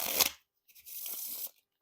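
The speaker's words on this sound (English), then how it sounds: "And now time for the riffle shuffle or bridge shuffle." A short crisp flutter, a pause, then a longer soft whirring rush as Theory11 Guardians of the Galaxy playing cards are riffled and bridged together, close and quiet.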